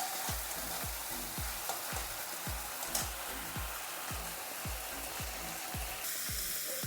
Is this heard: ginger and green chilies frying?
yes